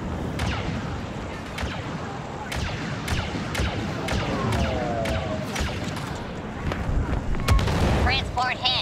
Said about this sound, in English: The clones are shooting a transport.